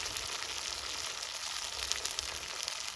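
Chopped onion and turmeric frying in a pan, a dense, continuous sizzle that holds steady throughout with faint crackles.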